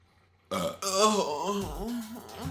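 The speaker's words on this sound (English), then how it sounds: "I'm about to have to burp." A single loud, drawn-out burp lasting about two seconds, close to the microphone, with no talk.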